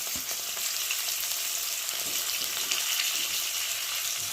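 Ginger, chili, tomato and onion paste frying in oil for rohu fish curry with potatoes, a continuous close sizzle with occasional soft stirring scrapes, no voices.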